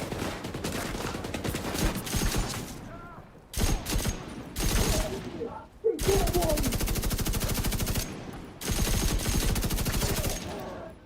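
Bursts of LMG machine gun fire in The Division 2, long loud sustained volleys broken by short pauses, close up, with a few brief game sounds between bursts.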